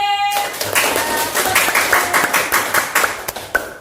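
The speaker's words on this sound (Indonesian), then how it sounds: "Anak-anak kasih tepuk tangan untuk kelompok B." A group of children in a classroom claps together in a quick, slightly uneven rhythm, the claps close and bright, with some chatter mixed underneath.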